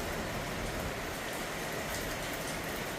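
A rainy-season downpour in the Philippines roars as a dense, even hiss of rain hammering surfaces, loud and constant throughout with no voices.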